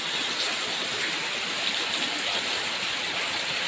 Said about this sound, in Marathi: एवढा जोरात पाऊस हा पहिल्यांदाच दिसतो मला.